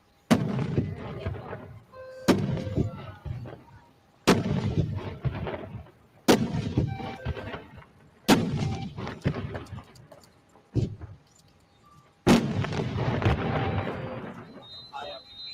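A daytime fireworks barrage: about seven loud launches come one after another, each a sharp boom with a crackling tail, a couple of seconds apart, with a voice heard between them.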